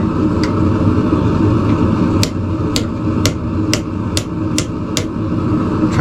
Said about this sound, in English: So I'm just going to use the horn here of my anvil.